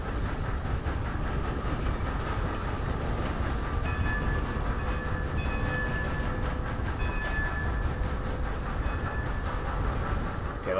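In Red Dead Online, a steam train runs continuously with a dense rumbling roar and rhythmic rail clatter, steady and loud throughout with no talk.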